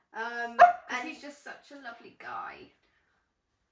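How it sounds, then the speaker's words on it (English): A dog barks sharply once, close by, cutting into a person's steady conversational speech that continues around it. "Sorry about the dog barking."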